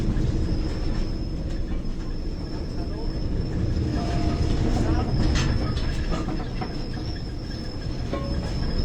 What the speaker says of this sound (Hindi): ये जोगिंदर नगर की इसे मेरे ख्याल से रोपवे ट्रेन कहते हैं।